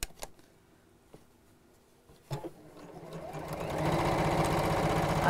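A sewing machine stitches pieces of a fabric drawstring bag together around the edge, starting with a few quiet taps and clicks before settling into a steady, rising mechanical whir that grows louder and continuous toward the end.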